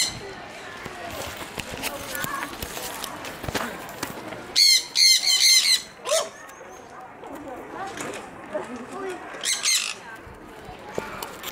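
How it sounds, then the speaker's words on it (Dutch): Birds in a zoo aviary give sharp squawks in a couple of loud bursts, with scattered chirps and a busy background as people talk nearby. "Hier zitten allemaal vogeltjes."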